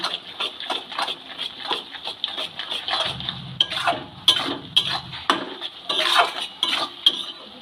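A spoon scrapes and clinks repeatedly around a pan while salt, chilli powder and spice powders are stirred into soybean chunks, a busy rhythmic clatter at moderate loudness with a soft low rumble midway.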